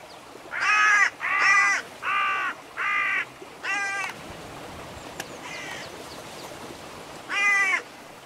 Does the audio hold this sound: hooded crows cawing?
yes